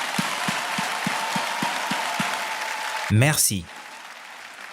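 Applause from a church congregation comes as a short, sparse burst of clapping under a preacher's continuous talk, followed by a brief spoken word at the end.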